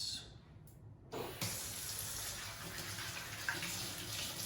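Tap water runs into a container being rinsed for sourdough starter, a quiet lead-in giving way to a steady, close hiss and splash of flowing water.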